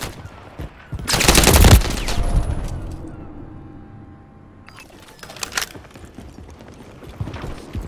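Gunfire in Call of Duty: Modern Warfare 3 multiplayer, one loud burst of automatic fire followed by a second, fainter volley, over a bed of clattering game noise.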